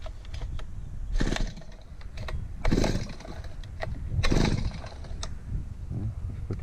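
A Chinese 3.5 hp 52 cc outboard boat engine is cranked by pull-start, giving three strong rasping bursts spaced about a second and a half apart with smaller clicks and rattles between, and the engine does not catch.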